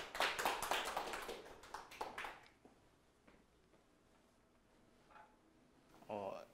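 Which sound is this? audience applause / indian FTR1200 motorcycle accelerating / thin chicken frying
audience applause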